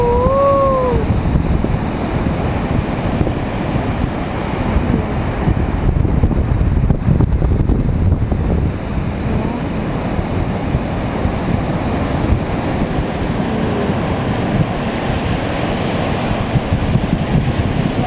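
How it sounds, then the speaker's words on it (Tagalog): Pacific Ocean surf crashes and rumbles continuously at close range on the shore, with wind buffeting the microphone throughout. "Oh, laki ng alon."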